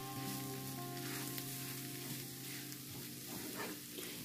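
Sliced tomatoes added to spices frying in a pan give a steady close sizzle with light scraping and stirring, no voices.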